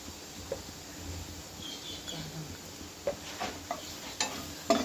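Spiced beetroot is stirred in a pan with a steady low scraping, a faint sizzle underneath and a few light spoon clicks near the end.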